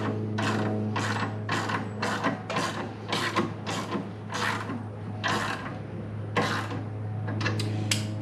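Lift raising a Can-Am Spyder F3T motorcycle during rear wheel removal, a close, repeated ratcheting clack in regular pumping strokes over a constant low mechanical hum.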